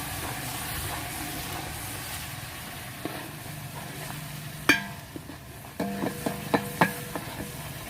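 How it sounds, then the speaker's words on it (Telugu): Onion and green chili paste fries in hot oil for a Mughlai chicken curry, a steady low sizzle broken by sharp clinks and scrapes of a stirring spoon against the pot in the second half, no talking. "పచ్చిమిర్చి, ఉల్లిపాయ పేస్ట్ ఒక 3 నిమిషాలు యాగనివ్వాలి నూనెలో"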